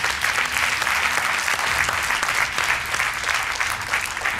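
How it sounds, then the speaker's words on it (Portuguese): Studio audience at a TV quiz show clapping, a continuous bright patter of many hands at even strength throughout, with no voices over it. "Um aplauso para eles!"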